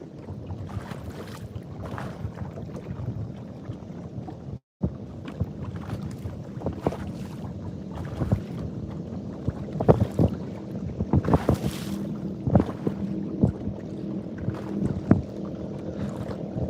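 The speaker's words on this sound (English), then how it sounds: "bass boats coming down through here. He sounds good at a distance." Bass boats pass by on open water near a catfishing spot, a steady engine rumble and wash carrying from a distance, with wind buffeting the microphone throughout and no talk.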